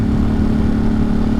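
A motorcycle engine drones loud and close during a dusk ride through the Catskill Mountains, a continuous low rumble with a steady pitch that holds for the whole short moment, with no talk.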